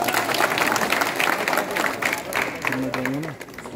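A crowd claps steadily at a village welcome ceremony in Meerut district, dense applause continuing throughout with a voice rising briefly near the end.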